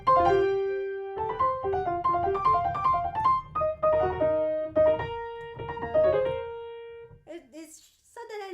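A Prokofiev piano piece is played with a soft, gentle touch: a flowing run of clear, sustained notes and chords at moderate loudness, ending in a brief higher flurry, with no voices.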